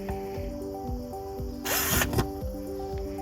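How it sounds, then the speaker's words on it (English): Power drill boring a pilot hole with a 1/16 inch bit for a screw while installing a magnetic door latch on an RV camper; one short burst of about half a second rises over steady background music. "and I'm gonna do a pilot hole"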